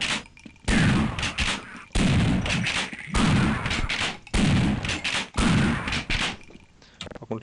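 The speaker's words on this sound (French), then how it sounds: "On est obligé de jouer au fusil à pompe." Shotgun blasts in the video game Half-Life 2, five heavy booming shots spaced about a second apart, each with a short rumbling tail, loud and close.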